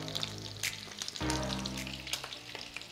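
Salmon frying skin-side down in olive oil and butter over moderate heat, with a steady close sizzle and scattered bright pops and crackles running unbroken, no voices.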